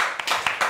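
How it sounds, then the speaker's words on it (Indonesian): A few quick claps from a small group in a talk-show studio, a brief scattered burst of hand claps lasting under a second. "Tepuk tangan dulu"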